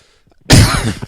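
A single sharp, close cough bursts out after a moment of near silence.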